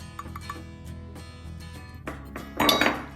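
Curd and powdered sugar mixed in a bowl for an eggless sponge cake, heard as soft irregular clinks and scrapes of a utensil against the bowl, with a brighter clatter near the end and no speech.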